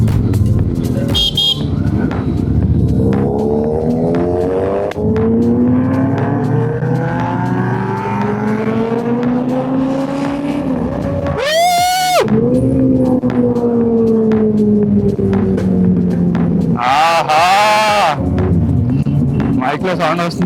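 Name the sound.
superbike engines during group ride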